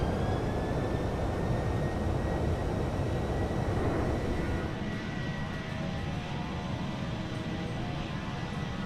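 PMDG 737-800 jet engines spooling up to takeoff thrust in Microsoft Flight Simulator, a steady loud broadband roar with a rising whine that continues through the run, louder early then slightly settling.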